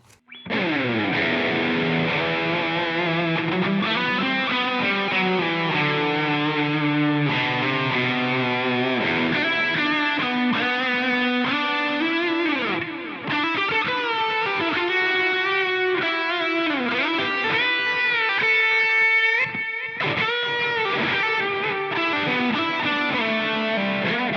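A distorted electric guitar through a Line 6 POD Go Soldano Lead preset plays a continuous riff, each note trailing into vintage digital delay repeats that smear and echo behind the playing.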